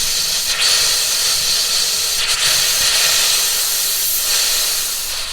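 Compressed air hisses forcefully through an RV kitchen faucet in a 2021 Heartland Pioneer BH250 being winterized, a loud continuous spray with slight sputtering surges.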